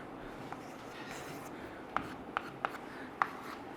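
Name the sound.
writing on a board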